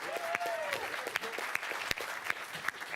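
Audience applause greeting the Mills High School Vikings from Millbrae at a quiz match between two Peninsula high schools, steady clapping with sharp individual claps standing out over the crowd.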